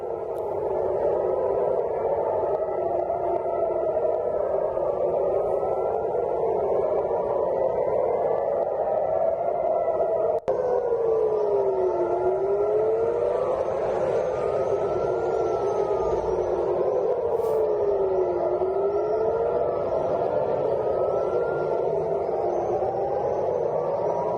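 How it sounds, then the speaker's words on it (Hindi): A steady wailing war air raid siren in northern Israel rises and falls in long slow cycles over constant broadband noise, sounding distant and slightly muffled throughout. "उत्तरी इजराइल में जंग के सायरन बज रहे हैं"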